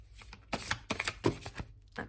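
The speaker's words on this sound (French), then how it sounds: "on va tirer la petite carte d'oracle" Oracle cards being shuffled by hand in quick, soft irregular riffles and taps, close and quiet, with no talking.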